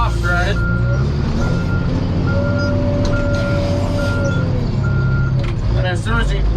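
Warning beeps from inside a Timberjack skidder's cab sound as a steady series of evenly spaced electronic tones, repeating over the loud, continuous drone of the idling machine close by.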